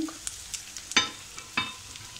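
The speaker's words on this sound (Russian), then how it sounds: "И теперь мы жарим целенаправленно лучок." Onions fry with soft sizzling in a pan, with a few scraping stirs and light clinks, close by and fairly quiet.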